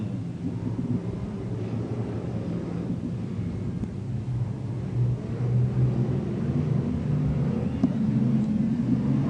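Super sedan race cars pull away at the start of an invitation race at Newcastle Motordrome, a low, thick engine roar rumbling from a distance and swelling slightly toward the end, with no talk.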